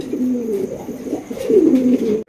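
Rajgolla pigeons cooing close up, soft throaty rolling coos repeating in two phrases, with a faint high hiss in the background.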